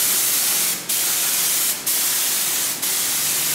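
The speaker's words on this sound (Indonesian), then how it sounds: "Ini spray gunnya saya set keluarnya paling halus, jadi kemungkinan akan semprot berkali-kali." A spray gun set to its finest output sprays DuPont P5001 pretreatment for DTG printing in a steady, loud hiss, broken by three brief pauses between passes.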